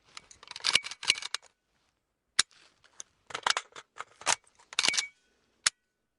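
A Kalashnikov rifle has its magazine swapped and is then charged, producing bursts of sharp, close metallic clacks and rattles separated by short silences, with a final lone click.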